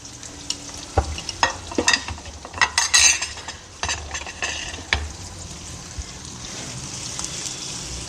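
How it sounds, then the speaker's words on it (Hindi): Sliced onions frying in about half a cup of oil in a pot for a goat trotters (paye) dish, with a steady close sizzle and intermittent scraping and clinking of a stirring spoon against the metal. "आधा कप हमने ऑयल लिया है, ऑयल ज़्यादा नहीं डालना, ये खुद भी बहुत ऑयल छोड़ेगा, तो आधा कप ऑयल लिया। सबसे पहले हम प्याज डालेंगे"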